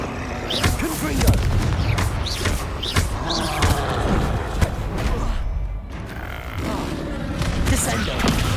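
Confringo blasting-spell explosions from the Hogwarts Legacy video game boom and crackle repeatedly amid other combat effects and creaks, loud and close, with a player's voice shouting over them.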